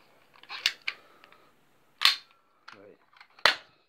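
A BB gun pistol fires three sharp, close cracks about a second and a half apart, with small handling clicks and a faint mechanical rattle between the shots.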